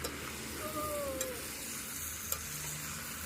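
Chicken pieces sautéed and stirred in a pan on a stove in a home kitchen, a steady close sizzle with a few scraping stir strokes, no talking.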